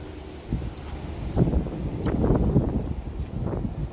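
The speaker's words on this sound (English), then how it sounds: "A tad too windy for conversation, Charlie, is it?" Wind gusts buffet a microphone outdoors at a Walt Disney World resort, producing a low, rumbling roar that swells and builds toward the end, with faint rustling and no speech.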